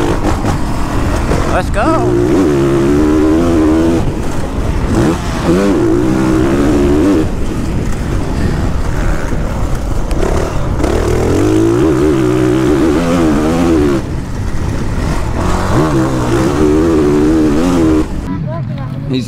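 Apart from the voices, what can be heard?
motocross dirt bike riding a hot lap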